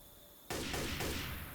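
Hunting rifle fire in the video game Left 4 Dead 2: a sudden loud blast follows a quiet moment, then a second shot lands while the first still rings, both sharp and close before the echo fades.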